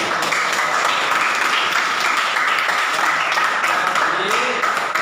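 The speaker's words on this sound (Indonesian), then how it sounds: "Oke, tepuk tangan." A classroom audience at an Indonesian teacher training session claps steadily and loudly, a dense wash of applause that fills the whole stretch with no break.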